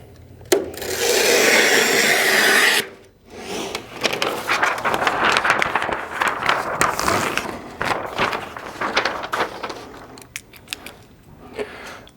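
Roll paper on an HP DesignJet XL 3800 large-format printer is trimmed along the drawer's cutting edge: a loud continuous rasping swipe, then scattered rustling and handling of paper nearby, no talk.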